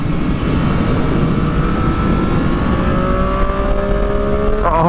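A 2010 Triumph Daytona 675 motorcycle accelerates hard, its engine whine climbing steadily in pitch as it winds out, loud and close with wind noise, and a brief shift near the end.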